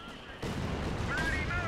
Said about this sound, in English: Oh damn it, rifle grenade.